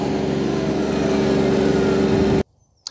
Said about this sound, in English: It's a really good tractor on the road.